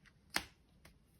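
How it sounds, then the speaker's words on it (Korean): Tarot cards are briefly shuffled and drawn, giving one crisp snap-like riffle followed by a fainter second flick, quiet and close. "내 마음의 변화에 대한 카드를 뽑아보도록 할게요"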